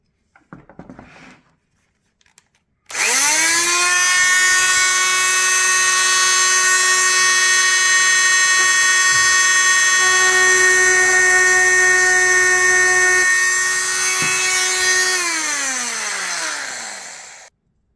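A power tool whines steadily as it cuts through the plastic of a Mercedes-Benz C-Class W204 xenon headlight, spinning up loudly after a few faint clicks, holding for about twelve seconds, then winding down.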